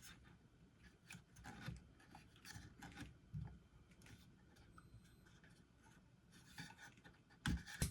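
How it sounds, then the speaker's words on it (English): A silicone sock is worked off a Bambu Lab A1 3D printer hotend, giving soft continuous rubbing and scraping with small clicks and a few sharper knocks, close and quiet, with no speech. "Next, I will remove the silicone socks."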